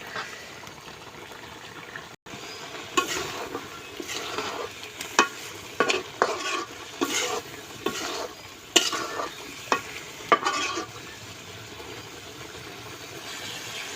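Broiler chicken meat being stir-fried with garlic in a pan: a steady, close sizzle of oil broken by repeated scraping and stirring strokes, with no talk.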